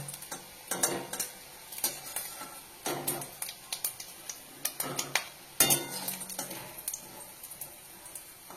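Fried fish roe fritters are lifted one by one from a pan of oil, heard as sharp spatula scrapes and metal clinks in irregular bursts over a faint, low sizzle.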